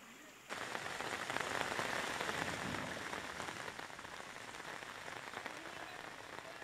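Heavy monsoon rain pours down in Jhalawar, Rajasthan, amid severe flooding: a dense, steady roar of rain on surfaces sets in abruptly after a brief quiet start and holds loud and unbroken.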